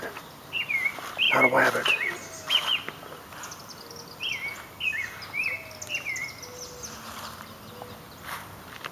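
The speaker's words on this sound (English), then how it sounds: "Oh, that's a bird." Birds chirp in a yard, a series of short, bright tweets and calls repeating across the clip at moderate distance, with a voice speaking briefly near the start.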